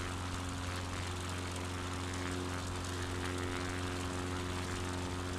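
Steady drone of a Piper Cub light-airplane propeller engine in Microsoft Flight Simulator 2020, a constant, even hum with strong low tones, fairly faint and unbroken, with no talking.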